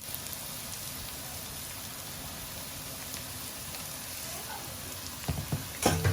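Turmeric and salt frying in oil in a pot for a traditional Sylheti biryani: a soft, constant sizzle like light rain, with a few sharp clinks of stirring near the end.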